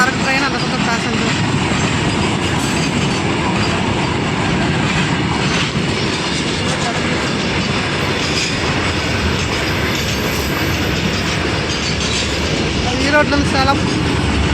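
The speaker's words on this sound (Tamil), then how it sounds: "இந்த பக்கம் சரக்கு ட்ரெயின், அந்த பக்கம் பேசஞ்சர்." Loud, continuous rumble of a freight train and a passenger train passing nearby on either side at Anangur Junction railway gate, with steady clickety-clack of wheels and metallic rattling throughout.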